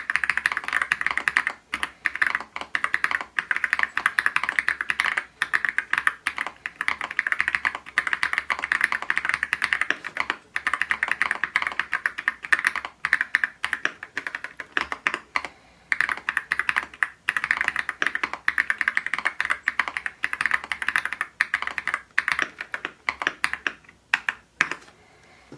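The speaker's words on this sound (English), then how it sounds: "One more quick typing test." Rapid, steady typing on a custom AKS068PRO mechanical keyboard, a near and continuous clatter of keystrokes with brief pauses, with no voice over it.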